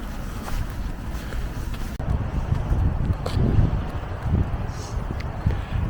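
Steady wind gusts across the microphone on a fresh, chilly day at the seaside at Rhos-on-Sea, a broad low rumble that swells and eases throughout with no voices.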